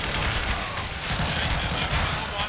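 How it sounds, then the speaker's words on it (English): Grenades going off during a Counter-Strike match at the StarLadder Major Berlin 2019, a continuous roar of blasts and gunfire filling the whole stretch, loud and dense, with faint crowd or commentary noise beneath. "The grenades continue."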